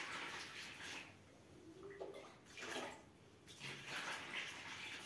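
Water is poured into a bowl in a home kitchen while making bazlama dough, a soft, splashing trickle that swells and fades in uneven waves, faint and close.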